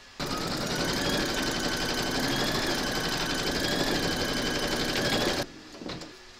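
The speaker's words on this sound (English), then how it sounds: "Pop your hoop into your machine and stitch round number 2 to secure it" A computerized embroidery machine stitches through a hooped layer of batting on a skeleton applique, a loud rapid mechanical chatter that runs steadily for several seconds and then stops abruptly, leaving quiet handling noise.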